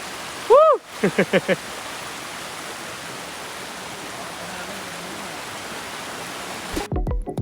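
Steady rain falls in a continuous hiss throughout on the Bolaven Plateau in southern Laos, with a short burst of voices near the start and again at the end.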